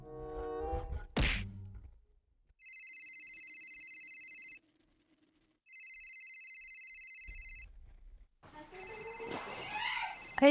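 A thud, then two long electronic phone rings separated by a pause, fairly faint and clear, followed by muffled noise at the end.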